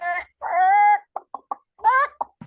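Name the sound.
chicken clucking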